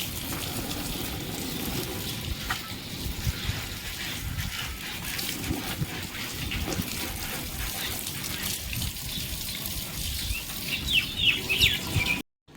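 Continuous hiss of a water jet spraying against a Bullet motorcycle being washed, with spattering and splashing throughout and a few louder bursts near the end.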